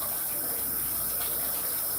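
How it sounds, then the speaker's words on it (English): Tap water runs steadily into a cooking pot with a continuous broadband rushing and splashing that holds at one level throughout. "Put a little bit of water in that."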